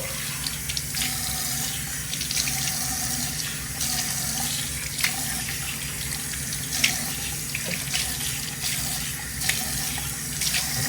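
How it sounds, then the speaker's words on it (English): Tap water runs steadily into a bathroom sink that has just been repaired for slow draining, a continuous close splashing hiss with small gurgles and knocks, no talking. "I'll rinse this off while I'm letting it fill up."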